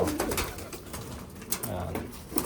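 Racing pigeons coo softly at close range, mixed with rustling, while someone talks over them.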